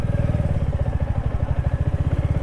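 A motorbike rides a rough off-road coastal track, its engine chugging loud and close in a steady low pulsing beat.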